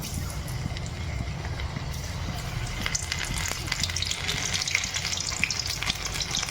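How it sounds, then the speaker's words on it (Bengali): Baby corn pieces slide one by one into plenty of hot white oil in a kadai for crispy chilli baby corn, giving a steady close sizzle with small crackling pops and no talking. "এবার একটার করে তেলে ছেড়ে দেবো"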